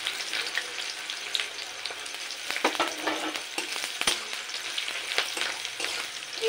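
Two large onions, sliced long and thin, hit hot oil already seasoned with bay leaf and peppercorns for a Bihari-style chicken. The result is a close, continuous sizzle scattered with sharp pops and crackles, and no one speaks.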